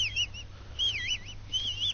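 Three sliding, warbling whistles call a companion in the medieval video game Kingdom Come: Deliverance, each short burst swooping up and down, clear and fairly loud over a low steady hum.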